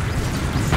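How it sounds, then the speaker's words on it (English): A rocket jump explosion fired by a Pyro in Team Fortress 2: a single loud, close, booming blast lasting under a second. "rocket jump! I rocket jump as a pyro, bro!"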